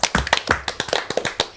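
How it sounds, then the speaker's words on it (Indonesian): A few people clap their hands close by in a quick, uneven burst of sharp individual claps lasting under two seconds, with no talking. "Kasih tepuk tangan dong."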